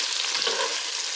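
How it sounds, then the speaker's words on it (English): A short stretch of steady, broadband frying hiss from a pan being stir fried, loud and continuous with no talking. "just stir like that. Just stir fry."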